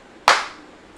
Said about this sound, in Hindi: चलो ताली बजाते हैं